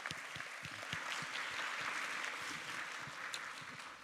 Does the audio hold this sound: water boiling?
no